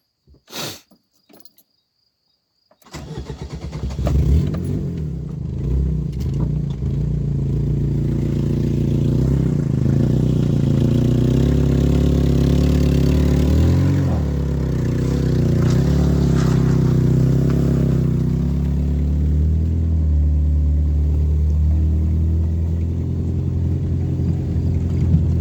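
After a few clicks and a brief cranking attempt, an old abandoned truck's engine catches and settles into a loud, steady rumbling idle that runs close and continuous for the rest of the stretch.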